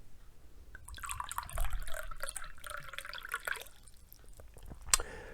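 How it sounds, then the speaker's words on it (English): Water pours into a glass with a trickling, bubbling splash, fairly quiet and close, ending with a light clink. "So the third glass, I'm going to pour, say, half the glass."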